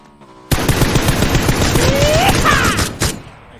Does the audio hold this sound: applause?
no